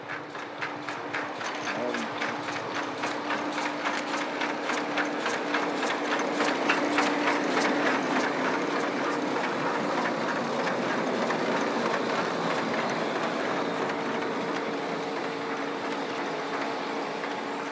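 A GKB class 29 0-6-0 steam locomotive, number 671, built in the 19th century, chuffs steadily at moderate distance with rapid, even exhaust beats and mechanical clanking, while servicing happens at the Weiz terminus in winter.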